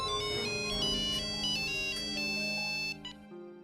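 Phone ringtone on an international call, a bright electronic melody of quick repeated beeping notes over a steady tone, playing for about three seconds before stopping abruptly.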